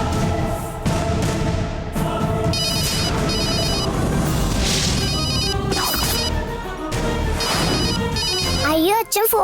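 A mobile phone left on charge at home rings with a bright, repeating melodic ringtone that plays loudly and steadily throughout, over a dense background with voices.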